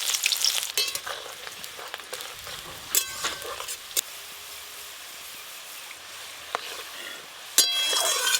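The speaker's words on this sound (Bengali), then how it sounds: "বেরেস্তা ভালো করে ভাজা হয়ে গেছে" Sliced onions fry in oil for birista, a continuous near sizzle and hiss with occasional clicks and scrapes of stirring, growing louder toward the end, with no talking.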